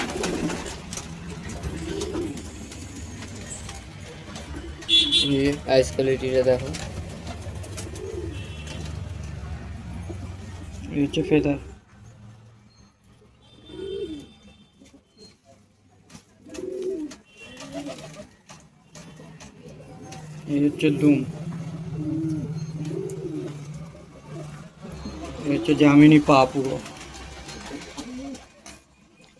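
A golden line female pigeon cooing in low, rhythmic throaty bursts, close by, heard under and between a man's speech.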